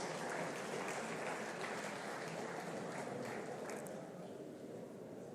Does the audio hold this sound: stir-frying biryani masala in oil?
no